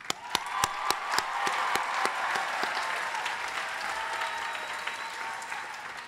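Audience applause fills a college convocation hall welcoming the incoming class, opening with a few sharp, distinct claps before swelling into steady, dense clapping that holds at an even level throughout.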